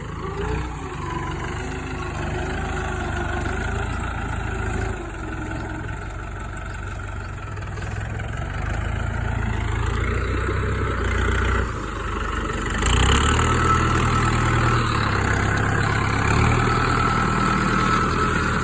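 A New Holland TT4.75 tractor engine idles steadily with a low, continuous rumble and vibration, holding close and loud for the whole stretch with no talking.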